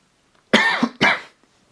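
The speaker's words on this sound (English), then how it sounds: "I had to cough, I guess" Two short, dry throat-clearing coughs from one person, close and fairly loud, in an otherwise quiet room.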